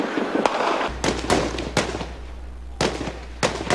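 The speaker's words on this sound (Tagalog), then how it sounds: "Umalingaw-ngaw sa sentro ng lungsod ang putukan at pagsabog mula sa bakbakan ng Sundalo at Maute Group." Gunfire and explosions from fighting between government soldiers and the Maute Group echo through Marawi City's center, sharp loud cracks and bangs arriving in irregular bursts over a steady low rumble.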